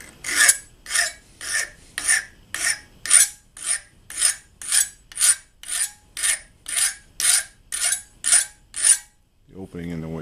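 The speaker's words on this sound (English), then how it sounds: "Just doing a little bit of hand filing on this piece" Hand file rasping across a metal lathe chip pan cover piece, about seventeen steady back-and-forth strokes in an even rhythm, close and clear, ending with a brief metallic ring.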